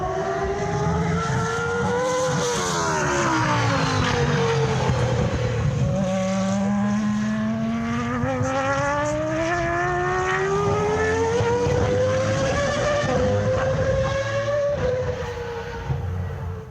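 Old Formula One car engine roaring continuously, its pitch sweeping up and down through gear changes and throttle shifts, loud and close with no talk.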